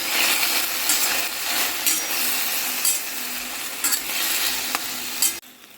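A spoon stirs long black eggplant curry with salt, turmeric and fenugreek masala in a hot pan, making a loud, continuous sizzle with scraping strokes that cuts off abruptly near the end.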